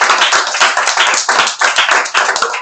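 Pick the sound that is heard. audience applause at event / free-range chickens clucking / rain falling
audience applause at event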